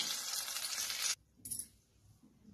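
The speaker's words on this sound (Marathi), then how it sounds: "हे चांगलं तळून घेऊ आता." Pakoda fritters frying in hot oil, a dense, loud broadband sizzle for about a second that cuts off abruptly, then a brief second burst and quieter low rumble.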